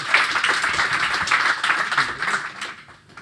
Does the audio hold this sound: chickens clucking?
no